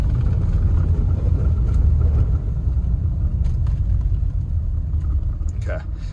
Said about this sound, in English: I'd like to do a braking test here once we hit some pure snow